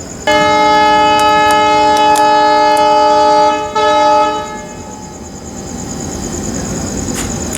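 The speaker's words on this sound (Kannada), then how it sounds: "ಇವಾಗ ಜಸ್ಟ್ ನಮ್ಮನ್ನ ಓವರ್ಟೇಕ್ ಮಾಡಿದ ಟ್ರೈನ್ ಯಾವುದಂತಂದ್ರೆ ನೈಟ್ ಕಿಂಗ್ ರೀ" The Belagavi Superfast Express overtakes with a loud, sustained multi-tone horn blast lasting about four seconds, briefly dipping midway, followed by the rumbling rush of the passing train fading into steady track noise.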